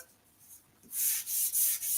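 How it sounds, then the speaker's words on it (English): After a quiet start, several rhythmic strokes of 400-grit sandpaper rasp against curly maple wood, close and steady with brief pauses between passes. "And we do some sanding"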